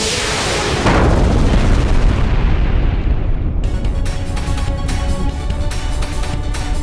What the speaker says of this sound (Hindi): ये तो बहुत बड़ा धमाका था।